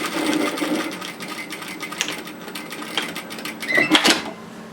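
A sewing machine stitching fabric for a bias-cut slip nightgown, a steady close mechanical whirr with rapid needle ticking and a brief louder burst near the end, no voices.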